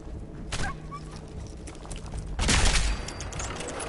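Gunfire aimed at a giant mutant crab in Fallout 4, with a short burst early on and a heavier, louder volley near the end, all over steady game background noise.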